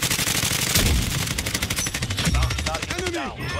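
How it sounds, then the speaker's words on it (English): Rapid automatic gunfire in Call of Duty Warzone, dense bursts crackling continuously from players shooting near tents, loud and sustained with a voice briefly heard underneath. "People in the tents are shooting me"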